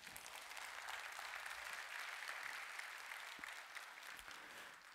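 Audience applause at a tech conference talk, a dense, steady wash of many hands clapping that holds evenly throughout, moderately loud and without speech.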